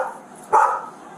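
A single sharp bark from a dog during a tense confrontation inside a store, close and fairly loud, following a brief low whine.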